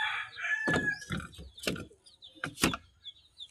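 Pet chickens around a newly built coop, with several loud, close clucking and crowing bursts spread over a few seconds and quieter chatter between them.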